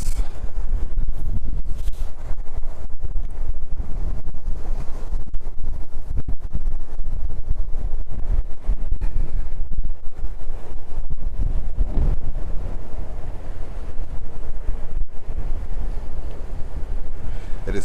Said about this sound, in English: It's simply a very windy day.